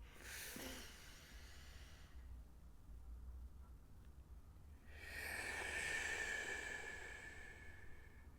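Deep breaths during a guided mindfulness exercise: a long, airy inhale, a pause of near-silence, then a fuller, louder exhale, close and soft with no talking.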